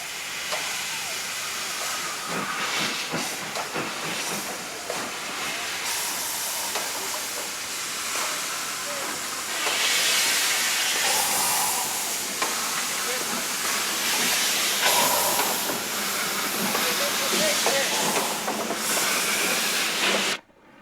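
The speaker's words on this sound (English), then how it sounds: "The heavy train finally gets underway after a bout of slipping." Heavy train hauled by a working 8F steam locomotive getting underway after slipping, with a helper engine at the rear: steady loud hissing steam and chuffing with rail noise, a continuous roar throughout.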